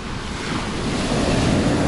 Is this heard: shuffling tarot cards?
no